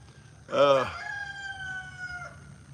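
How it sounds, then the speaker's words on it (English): A rooster crows once, fairly close and loud, the drawn-out call holding for about two seconds over low background noise. "Why does roosters crow?"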